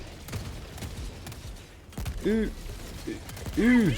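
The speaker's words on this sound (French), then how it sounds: "Il y a un coup de canon." Cannon fire in the video game Helldivers 2 during a defense mission against squid-like enemies, with sharp booms and mechanical clatter amid game effects and a voice speaking.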